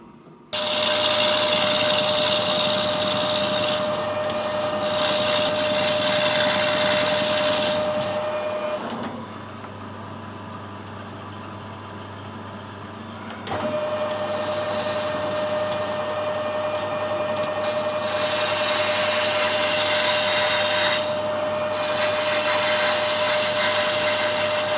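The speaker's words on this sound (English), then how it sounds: "We'll put it back in the lathe, finish it off." A lathe machining a bronze boiler fitting gives a steady motor hum with a constant tone, briefly dropping lower midway before resuming, close and sustained with no talking.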